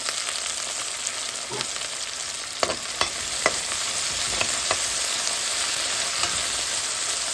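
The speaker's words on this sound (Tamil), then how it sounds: "கடுகு பொரிஞ்சோடனே வெங்காயம் பச்சை மிளகாய் பொரிஞ்சோடனே கருவேப்பிலை இதெல்லாம் போட்டு கொள்கிறேன்" Mustard seeds, onion, green chili and curry leaves fry in hot oil for rava upma, giving a steady, loud sizzle with occasional crackling pops and light stirring sounds.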